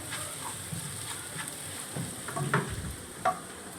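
Onions frying in a pan for crab roast, a steady close sizzle with occasional stirring scrapes and taps, louder toward the end.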